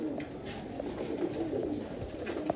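Sialkoti pigeons cooing softly in a loft, a few low throaty calls rising over steady ambient room noise with no talking.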